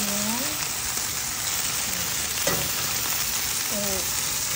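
Chicken pieces frying in a pan for adobong pinatuyo, a steady loud sizzle throughout with occasional stirring scrapes and faint voice-like tones, no clear speech.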